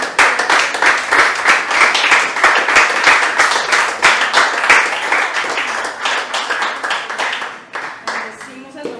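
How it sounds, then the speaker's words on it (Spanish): A church congregation applauding together in a sustained burst of dense clapping from many hands, loud and steady before thinning out toward the end, with voices mixed into the crowd. "aplauso al Señor"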